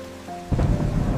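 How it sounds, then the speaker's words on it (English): Heavy thunderstorm rain in a rural village, a low hum abruptly giving way to a dense rumbling wash of downpour, loud and continuous. "The rain is so heavy."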